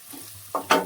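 Onion and tomato paste frying in a pan for a rajma tadka, with two short bursts of sizzling that swell near the end of a brief, otherwise quiet moment.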